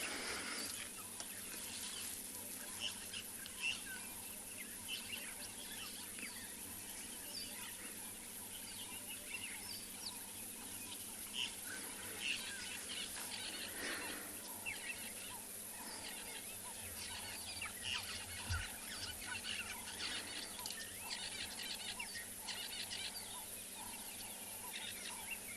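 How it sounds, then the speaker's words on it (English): Dawn birds calling around Chitwa Dam in Africa, a steady chorus of overlapping chirps, clucks and calls at moderate distance, with fowl-like notes rising over a constant background hum and no talking. "enjoy the sounds of the birds waking up"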